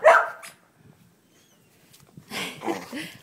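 A puppy dog barks during play with a toy, with a loud burst of barking at the start, a near-silent pause, then further yips and vocal sounds toward the end.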